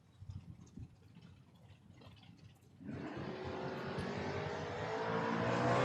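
A Ford Mustang drag racing car launches from quiet idle into a loud sustained roar, its engine note building steadily as it pulls away down the strip at a drag racing event.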